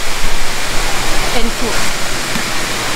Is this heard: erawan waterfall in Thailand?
yes